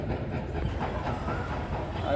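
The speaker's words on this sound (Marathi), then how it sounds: "मेट्रो चालली आपली" A metro train passes nearby with a steady rumbling roar and faint rail clatter, heard from a high building terrace in Anand Nagar, continuous and building slightly at the end.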